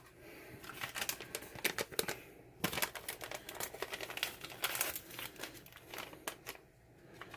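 The crinkly packet of Cheetos cheese mix rustles and crackles in close, irregular bursts for several seconds while mac and cheese is being made in a kitchen.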